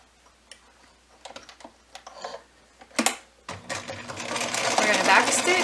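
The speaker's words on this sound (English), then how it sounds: "And we're going to stitch that triangle." A sewing machine stitches a small quarter-inch triangle on a snake stuffie, starting with scattered clicks and then running steadily and close, with a voice talking over it.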